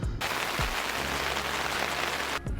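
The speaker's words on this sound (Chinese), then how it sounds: "下雨哦" Rain falling steadily at the H&N Campsite in Port Dickson, a dense continuous hiss of drops on surfaces nearby, with a few soft thumps and no talking.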